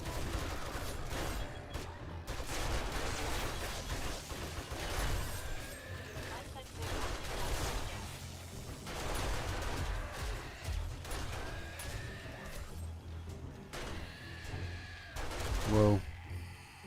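A turret firing in the survival game 7 Days to Die sends out repeated bursts of rapid gunfire with mechanical clatter, crashes and impacts, while a voice talks over it at times.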